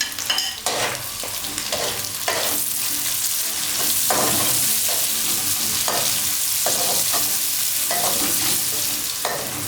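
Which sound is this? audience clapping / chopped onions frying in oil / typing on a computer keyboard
chopped onions frying in oil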